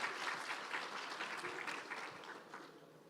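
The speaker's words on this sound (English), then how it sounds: "A huge round of applause to both of them." Audience applause for the chess champions, a steady wash of many hands clapping at moderate distance that thins slightly toward the end.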